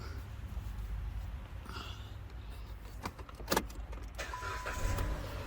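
A car engine with a new battery cranks and catches, then keeps running with a steady low rumble, with a few clicks and a jingle of keys near the start.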